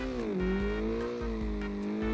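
A drifting car slides sideways downhill through a corner, its engine note a steady sustained wail with tire squeal layered over it, loud and continuous from start to finish.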